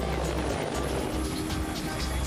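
AH-1 Cobra attack helicopter, such as the AH-1T Sea Cobra or AH-1W Super Cobra, flying with a steady, loud broadband rotor and engine drone that continues unbroken throughout.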